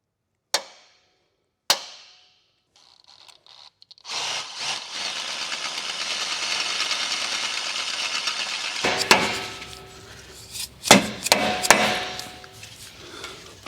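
Two sharp taps, then a steady broadband power-tool whine as a drill bores holes in a Jeep Wrangler JL suspension lift bracket, running for several seconds before ending in a few loud knocks and clatters nearby.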